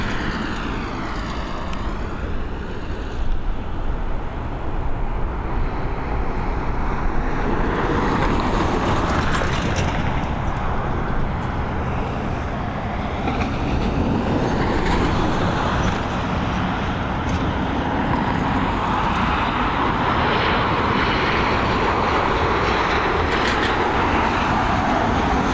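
A Boeing 737 airliner arrives at Dublin Airport, a loud broad jet roar that holds steady throughout, heard from a distance outdoors with no talking.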